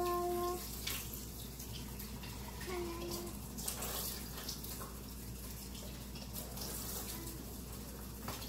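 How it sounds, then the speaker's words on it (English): Churned butter is rinsed under cool running water from a tap, a steady close wash of flowing water that continues through the stretch, with faint background tones and occasional small knocks. "And then you just rinse it in some cool water."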